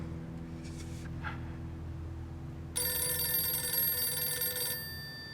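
A telephone bell rings out in one bright, loud burst lasting about two seconds over a quiet room hum, then stops, with no speech.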